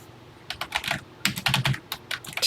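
Keys clacking on a TI-99/4A home computer keyboard, a quick uneven run of close, crisp keystrokes in short bursts.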